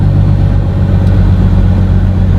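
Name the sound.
big rig truck engine braking with Jake brake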